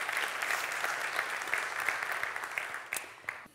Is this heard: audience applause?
yes